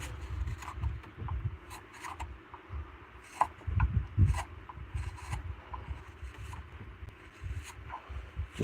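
A gouge cuts and scrapes the inside of a wooden bowl during hand carving, making steady, soft rasping strokes with occasional sharper scuffs. The strokes are close and fairly quiet, with no talking.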